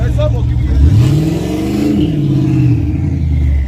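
Turbocharged truck fitted with nitrous revving hard at a small-tire street racing night, one rising and falling engine sweep close by, with voices talking over the roar.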